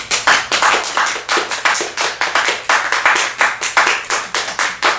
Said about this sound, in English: I will just take a moment here to actually applaud you